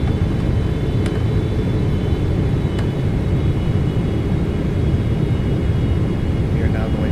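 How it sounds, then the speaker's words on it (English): In a flight simulator, a PMDG 777 with its landing gear down carries a steady, broad rumbling rush of wind drag, continuous and fairly loud, with speech heard over it. "you can hear the wind of the drag being caused by the gear being down"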